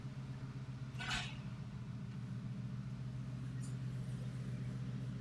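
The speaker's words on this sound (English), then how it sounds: "Like it's like there's an owl stuck in this thing. Usually that's a bad turbo." A Subaru EJ20 engine idles with a steady low drone, a brief high hooting whistle from a failing turbo rising near the start and again faintly later, like an owl stuck inside.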